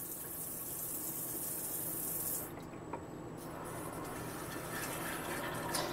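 Water runs steadily into an RV toilet bowl, filling it with a continuous rushing, splashing flow that briefly shifts in tone partway through, then carries on evenly without any voices.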